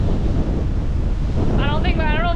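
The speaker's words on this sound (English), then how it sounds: "It's so windy." Strong hurricane wind roars and buffets the microphone on an exposed shore during a fishing outing, a loud continuous rumble with surf-like noise. A voice briefly speaks near the end over the gusts.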